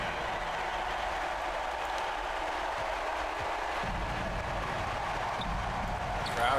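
Arena crowd noise from an NBA 2K basketball game at the Forum, Lakers versus Sonics in the 1980s: a steady, loud roar of fans on their feet that continues without a break.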